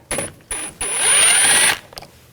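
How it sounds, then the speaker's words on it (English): A ratchet fitted with a T20 socket turns out a door trim screw on a 2000-2006 BMW X5, with two short clicking bursts and then a longer fast run of ratchet clicks, close and loud. "I'm going to take these screws out,"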